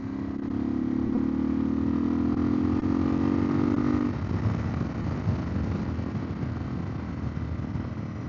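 A Suzuki DR650 motorcycle with a throaty aftermarket exhaust runs steadily and loud and close, a deep even burble that holds a low tone at first and then settles into a rougher idle.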